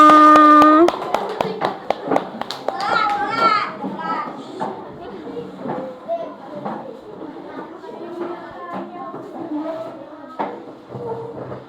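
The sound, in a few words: children clapping hands in a classroom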